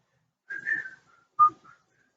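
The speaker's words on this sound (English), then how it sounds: "Can I whistle? Yes, I can whistle." A person whistles two short tonal bursts, the first wavering and the second a quick rising note, close and clear with no talking.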